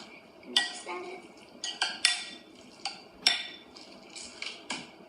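A salt, crushed black pepper and Parmesan mixture stirred in a bowl, with repeated clinks and scrapes of a utensil against the bowl at an uneven rhythm, close and fairly quiet.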